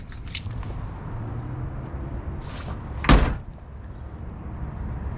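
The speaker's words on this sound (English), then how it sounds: "Grab the keys and I'll pop the trunk here." The trunk of a 1970 Ford Mustang Mach 1 is opened: a few light clicks of the latch, then one sharp metallic clunk midway, standing out close and clear against a quiet background.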